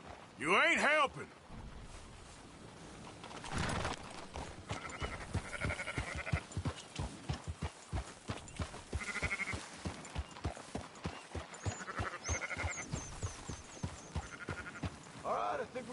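Sheep bleat while being herded on horseback through a Red Dead Redemption 2 countryside: repeated wavering bleats from several animals, some near and some farther off, over steady hoof clatter and a brief shout at the start.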